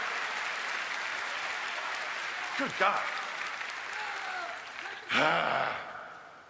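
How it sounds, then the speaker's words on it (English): A crowd at the BlizzCon opening ceremony applauds in a steady wash of clapping, with a voice speaking briefly over it and a louder swell of cheering near the end. "Why don't you give yourselves another round of applause"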